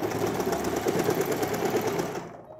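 A sewing machine stitching a seam, a fast, steady mechanical whir with rapid needle clatter running continuously up close before cutting off abruptly near the end.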